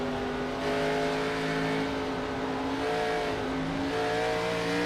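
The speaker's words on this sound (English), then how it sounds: "And Riley, you heard the throttle there." A steady, loud engine drone with sustained tonal whine, throttle held high and shifting slightly in pitch, from a race car at speed in the iRacing sim racing game.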